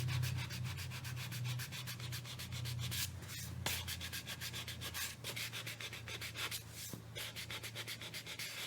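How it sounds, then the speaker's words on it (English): Sandpaper rubbed over painted wood on a cutting board, quiet rhythmic back-and-forth scratching strokes repeating evenly and close, with no talk. "I'm just going to give it a little sand to fade that down"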